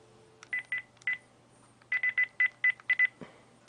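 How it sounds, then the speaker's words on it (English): Keypad tones sound as a cell phone number is dialed: a few scattered beeps, then a quick, even run of about eight clear touch-tone beeps, close and crisp over a faint low hum. "Now, we're going to call the cell phone."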